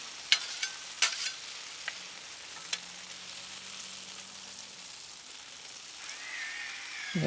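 Creamy gravy cooks on a Blackstone griddle with a soft, steady sizzle and bubbling, broken early by a few sharp utensil taps and clicks, with no one talking.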